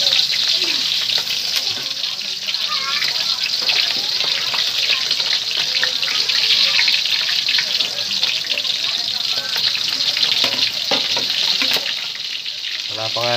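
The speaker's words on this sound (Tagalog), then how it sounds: "yung bangus na pipirito natin, pinipirito ko guys" Milkfish (bangus) frying in hot oil in a home kitchen, a steady dense sizzle and crackle lasting throughout with running water and faint voices mixed in.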